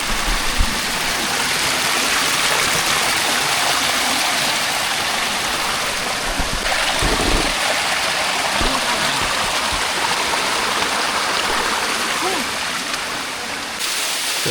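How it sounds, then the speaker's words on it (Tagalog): Strong, clear river current rushes steadily and loudly close by in Laguna, a dense broadband roar of churning water that holds constant throughout, with a voice speaking over it at times. "At malakas na ang ragasa."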